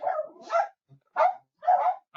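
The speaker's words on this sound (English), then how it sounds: "My dog's now barking at something. So now the other one's barking." Two dogs bark indoors, three short, sharp barks in quick succession with brief pauses between them, close and fairly loud.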